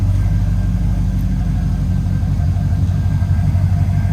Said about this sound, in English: Engine runs totally smooth.